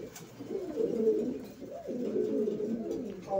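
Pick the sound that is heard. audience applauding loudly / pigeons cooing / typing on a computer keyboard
pigeons cooing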